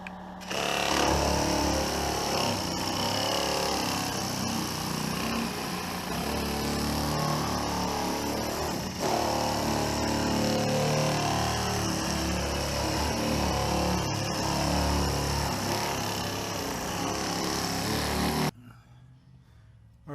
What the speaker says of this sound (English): So let me sand it down with 80 grit